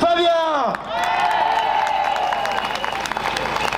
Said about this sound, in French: Je vous prie d'applaudir Fabien.